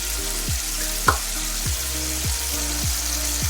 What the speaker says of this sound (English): I'm also going to put the pork steak in there.